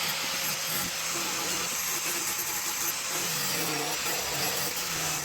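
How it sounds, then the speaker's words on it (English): An angle grinder grinds paint and rusty metal off a car body, giving a steady, loud, broadband abrasive roar that runs continuously without breaks. "get this yoke, the grinder, and start sanding off or grinding off all the paint and the metal around there"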